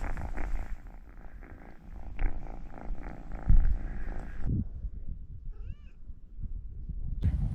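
Cat meowing and purring outdoors in a beach town, a close, low rumbling purr with a few soft meows and some handling noise, no talk.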